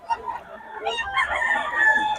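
A two-year-old pumpkin sweater gamefowl rooster crows once in a loud, drawn-out call close by, ending in a sustained high note with light background noise.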